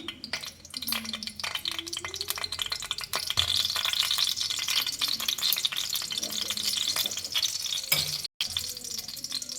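Mustard seeds and cumin fry in hot oil with a steady, bright crackling sizzle, joined by stirring scrapes and a few clinks. The sound stays close and continuous, with a short break near the end.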